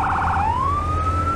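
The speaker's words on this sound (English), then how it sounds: "I prefer to change the siren tones myself instead of have them change like it is in the game" A loud electronic fire engine siren in the video game Firefighting Simulator shifts from a rapid warbling yelp into a steady, rising wail, held continuously against a low engine rumble.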